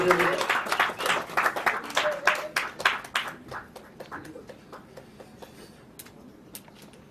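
An audience claps loudly for actor Dhananjay at a celebration event, a burst of applause that peaks early and gradually thins out into scattered claps.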